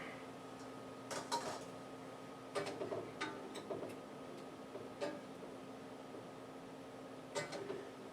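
A spoon taps against the back of a plate in a kitchen, a few faint, sparse metallic clicks spread out over quiet background hum.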